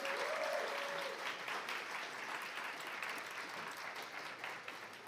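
An audience at a student guild election results night gives a steady round of applause that fills the whole stretch evenly, with a brief faint tone near the start.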